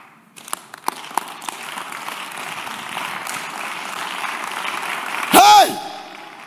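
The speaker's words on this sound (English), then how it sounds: "The Lord bless the hand that are clapping." Congregation at a church service clapping hands, a broad wash of applause building steadily across the clip, with a few sharp isolated claps early on and a brief tonal whoop or voice near the end.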